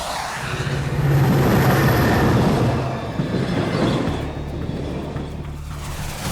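A cartoon train rumbles along as a sound effect, a loud, steady rolling roar with low droning hum that swells and eases slightly, with no talk over it.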